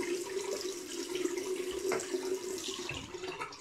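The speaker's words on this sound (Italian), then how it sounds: "Adesso mi vado a sciacquare un attimino, sempre con l'acqua bella ghiacciata" Cold tap water runs steadily into a sink for rinsing the face, a continuous close splashing flow with small shifts in tone, heard alone without talk.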